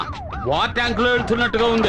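A siren in a Telugu action movie scene wails in rising and falling sweeps with a loud, close tone, while someone speaks over it.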